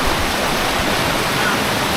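Strong typhoon floodwater current rushing past in Occidental Mindoro, a dense, steady roar of churning water filling the scene without pause.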